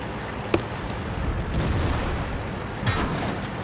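A tank in the World of Tanks video game takes shell hits, heard as two or three short, heavy booming impacts over a low, steady rumble of engine and battle noise.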